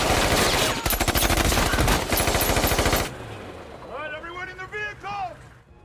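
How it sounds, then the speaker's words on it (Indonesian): Gunfire in a shootout scene from the action film Sicario: Day of the Soldado, loud rapid bursts of automatic fire for about three seconds, then a quieter stretch with faint whistling, tonal music-like sounds. "Baku tembak besar pun tak terhindarkan."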